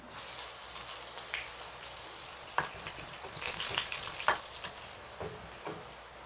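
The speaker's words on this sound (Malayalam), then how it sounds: "ഉലുവയും കടുകും പൊട്ടി ഇനി ചെറിയ ഉള്ളി ഇടുവാണേ." Chopped shallots fry in hot oil with popped mustard seeds and fenugreek for a gooseberry pickle, giving a steady close sizzle broken by a few sharp crackles and stirring clicks, with no talking.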